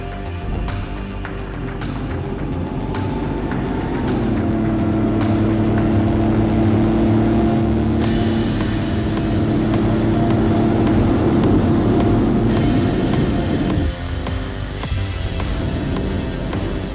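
Tank engine running at full throttle in the WARNO strategy game, a loud, steady mechanical drone with a throbbing low tone that builds and then drops away.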